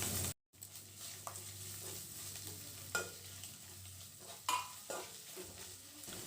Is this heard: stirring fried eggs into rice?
yes